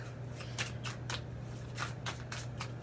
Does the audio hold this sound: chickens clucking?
no